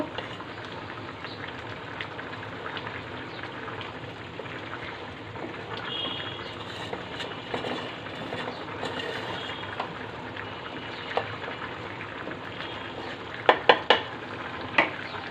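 Snakehead fish curry gravy bubbles and simmers in a pan, a steady close sizzling wash with occasional soft clinks of a spoon near the end, no talking.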